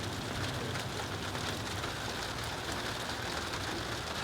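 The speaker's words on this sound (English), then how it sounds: "Ah, rain." Steady, moderate rain falls outdoors as an even, continuous hiss with no talking over it.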